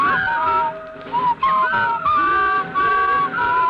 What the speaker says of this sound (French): as essayé déjà de le siffler, le pont de la rivière Kouai?